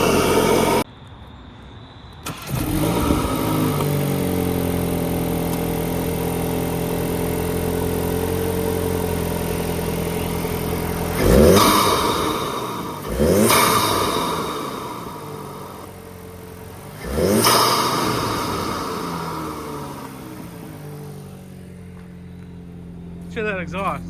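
Volkswagen MK8 GTI engine with a new aftermarket intake, idling steadily and then blipped in three sharp revs that rise and fall back, close by, with people talking over the idle.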